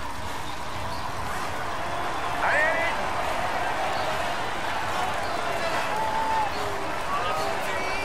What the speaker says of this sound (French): Il y a du monde hein, dans les rues d'Utrecht quand même.